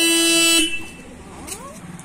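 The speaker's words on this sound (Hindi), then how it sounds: "हॉर्न बजाओ बेटा, गाड़ी का horn pipe pipe pipe pipe." A single loud, steady horn blast from a bike sounds for about half a second and then cuts off, leaving faint background noise and a brief voice afterward.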